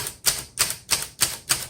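A 1941 Corona Sterling manual typewriter, its number 4 key a little sticky, clacks through a key test in five evenly spaced, crisp strikes, close and alone.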